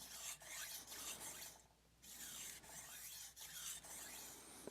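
Steel kitchen knife swiped back and forth across a 1000-grit whetstone, either a Suehiro Cerax vitrified or a Naniwa Chosera magnesia stone, giving close, steady rasping strokes with a brief pause midway.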